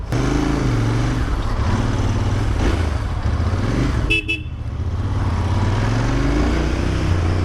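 Steady low engine rumble of a Royal Enfield Interceptor 650 motorcycle riding along a potholed city road, with a short horn toot partway through.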